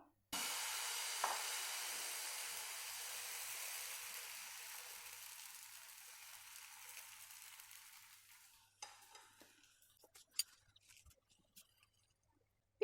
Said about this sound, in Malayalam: നമുക്ക് ആദ്യത്തെ മാവ് ഒഴിച്ചു കൊടുക്കാം.